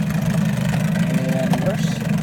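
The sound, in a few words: 1982 Evinrude 15hp outboard motor idling low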